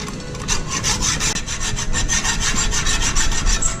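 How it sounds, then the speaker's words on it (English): Hand-sawing a stunt axle slider part clamped tight in a vise, with a close, steady rhythm of rasping back-and-forth strokes and no talking. "Put it in there nice and tight and start sawing."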